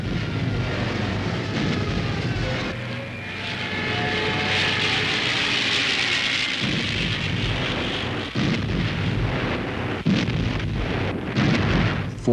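Wartime aircraft engines drone steadily, loud and continuous, with rumbling low booms suggesting distant aerial bombs exploding beneath the roar.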